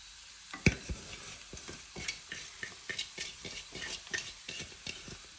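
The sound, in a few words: mixing avalakki uppittu in a pan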